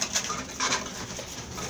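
Racing pigeons coo softly inside a loft, a few low, rounded murmurs rising and falling over quiet background noise.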